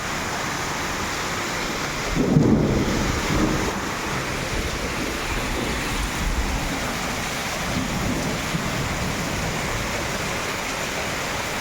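Steady rain and storm noise with a low rumble of thunder swelling near the start, then a continuous wash of rainfall with white hailstones falling; hail is not distinctly audible.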